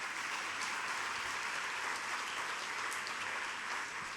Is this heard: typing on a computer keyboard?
no